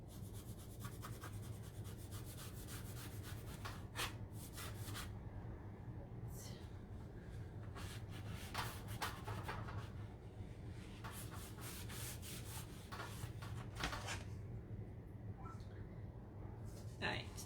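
A waxed door tag gets a light scrub by hand, producing quiet rhythmic rubbing strokes in short bursts that repeat steadily over a low background hum.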